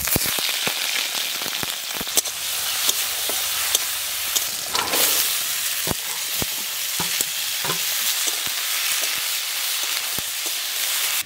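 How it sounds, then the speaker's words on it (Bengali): Prawns fry in a hot wok. A dense, continuous sizzle runs throughout, broken by frequent sharp clatters and scrapes as they are stirred, with no voices. "তাই চিংড়ি মাছগুলো কড়াইতে দিয়ে দিচ্ছি।"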